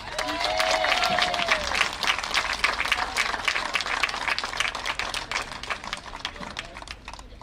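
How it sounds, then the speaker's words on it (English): Crowd applauding senior baseball players at a university Senior Day ceremony, loud sustained clapping that slowly tapers off, with a brief tone near the start. "Let's give one more huge round of applause for our nine seniors and all they have done to represent UAM."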